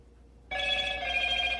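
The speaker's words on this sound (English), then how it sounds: "My phone's going off." A mobile phone starts ringing after a near-silent pause, a bright steady electronic ringtone that holds loud and continuous to the end, with no talking.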